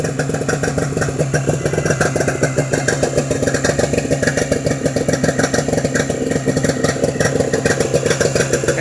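A 1974 Raider-Hawk snowmobile engine, fed fuel straight from a can, runs steadily and loudly close by with a fast, even rattling putter that holds for the whole stretch.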